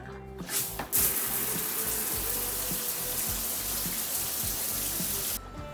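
Water gushes steadily from a tap or shower in a bathroom during a morning routine, a loud continuous rushing splash that starts abruptly and runs unbroken for several seconds with no voices.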